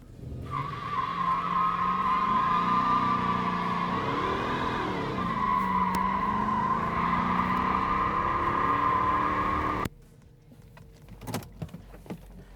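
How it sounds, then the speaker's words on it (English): An old Hemi-powered police car does a burnout, a loud sustained tire squeal with a strong whining tone and engine roar running close for about ten seconds before cutting off abruptly, leaving quieter rattles and knocks afterward. "Now the real question, we'll do a burnout."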